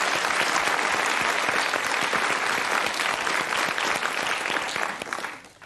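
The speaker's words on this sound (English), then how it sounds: "I think we'll applaud him for trying" Studio audience at a television game show final breaking into steady, full applause, dense clapping that holds evenly before fading away at the end, with no talk over it.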